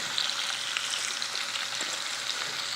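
Onion added to sliced potatoes browning in a pan for a Spanish omelette, giving a continuous moderate sizzle with fine crackles, even and unbroken throughout.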